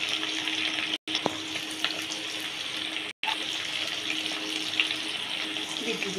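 Onion sautéing in a pan with black mustard seeds, red chili, garlic, ginger and ground spices, a continuous even sizzle broken by two brief silent gaps, no speech.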